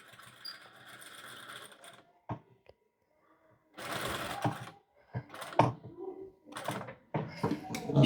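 A sewing machine stitches fabric for a Chanel-style jacket in short close bursts of rapid mechanical whirring, separated by pauses and soft handling sounds as the fabric is turned.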